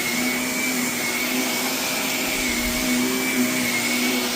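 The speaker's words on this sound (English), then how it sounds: "I love this short vacuum. The suction of it is great." A short vacuum cleaner runs steadily on heavily soiled carpet, a loud continuous whine and rushing suction with no talking.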